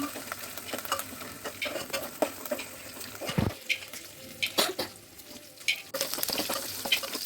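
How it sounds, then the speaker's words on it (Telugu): Mustard seeds, cumin, garlic and chilli frying in oil in a bowl on the stove for a potato curry, a soft sizzle broken by sharp pops and spatters, with stirring scrapes and clinks close by. "ఆవాలు, జీలకర్ర, వెల్లుల్లి, మిర్చి వేసి కలపాలి. వేగాక"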